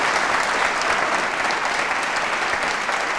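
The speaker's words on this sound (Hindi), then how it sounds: "तो फिर तालियां बजाइए संकल्प के रूप में।" Sustained, even applause from a large audience at an election-themed quiz show at a technology and management institute, many hands clapping together at a steady level throughout.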